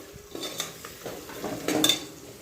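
Chilli powder, biryani masala, turmeric and salt being fried in a pan, soft sizzling under intermittent stirring scrapes and light utensil clinks, close and fairly quiet, no talking.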